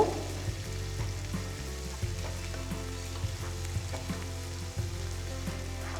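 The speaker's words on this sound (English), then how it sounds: "After adding the onions, saute it for just about a minute or so." Chopped onion, slit green chilli and finely chopped ginger sautéing in a pan for khara bath, a low, steady sizzle with faint periodic stirring taps over a constant hum, quiet and close.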